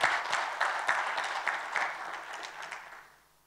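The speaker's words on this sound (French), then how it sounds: "Vous pouvez l'applaudir" A smallish audience at a talk on smart cities and mobility claps for a speaker, somewhat sparse claps with a few distinct hand strikes standing out, gradually fading away by the end.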